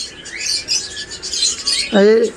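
Pet birds at a bird market in Mohammadpur, Dhaka, including parrots and lovebirds, chirp in quick bright bursts throughout, ending in a louder harsh squawk up close.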